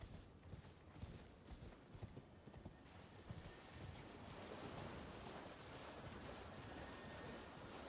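Horse hooves clip-clopping in the Elden Ring video game, a steady run of soft, distant hoofbeats over a breezy, surf-like wash of ambience that swells and evens out toward the end.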